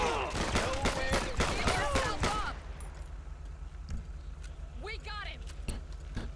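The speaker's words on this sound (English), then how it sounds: "We got this dude shooting out of nowhere." Gunfire from a shooter in GTA 5, a rapid burst of sharp shots packed close together for a couple of seconds, followed by scattered quieter shots and a voice talking over the background.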